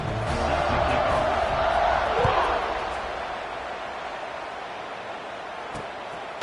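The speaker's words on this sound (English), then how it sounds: "this crowd is buzzing after that last score" Stadium crowd noise in a college football video game: a broad, steady roar that swells and then eases slightly, carrying through continuously with a brief thump near the end.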